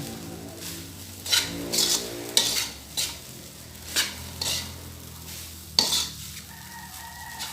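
Fried rice being stirred in a pan after soy sauce is added, a spatula scraping in repeated strokes every half second or so, close and fairly loud over a low sizzle, with no talking.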